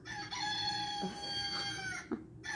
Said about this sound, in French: C'est vrai que c'est plutôt un coq.